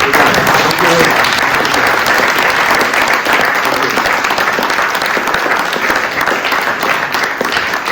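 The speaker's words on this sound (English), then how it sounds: "I can see someone very eager to clap" Loud, dense applause from a conference audience closing a day of talks on European Union enlargement, continuous clapping filling the room for several seconds, with faint voices mixed in.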